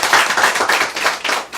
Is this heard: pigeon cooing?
no